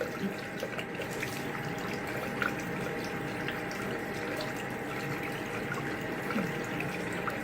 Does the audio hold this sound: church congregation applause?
no